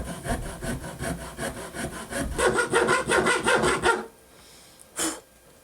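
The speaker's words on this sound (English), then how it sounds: "I'm gonna widen this little slot with a broken hacksaw blade where I glued two pieces together." A broken hacksaw blade rasps back and forth through a glued slot in a handmade bass lure, a steady run of quick close sawing strokes that stops abruptly, followed by one short scrape.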